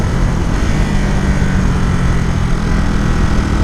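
Engine of a 2018 Ducati SuperSport S motorcycle while riding, a loud, steady, close drone with a low rumble and continuous wind noise, no voices.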